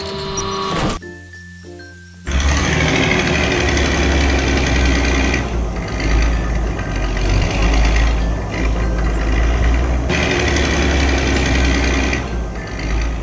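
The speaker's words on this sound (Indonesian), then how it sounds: "Mesin kuning ini sedang bekerja di jalan yang rusak, memperbaikinya satu demi satu." Yellow construction machine working on a damaged road in an animated cartoon, its engine running as a loud steady mechanical drone with faint rhythmic clanking, following a brief electronic tone at the start.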